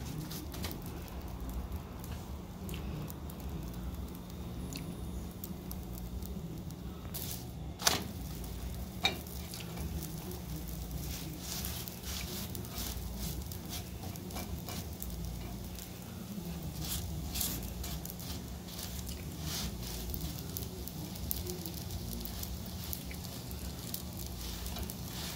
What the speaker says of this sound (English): I now started to cook my dhalpuri.